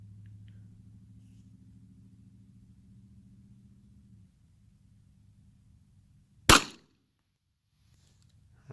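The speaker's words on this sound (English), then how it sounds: "So this gun can fire at least 3 cartridges." A single sharp report from an Astra 400 pistol firing mixed 9x19 and .380 cartridges from a 9x23 Largo magazine cracks out loud and close, after several seconds of low steady rumble and near silence.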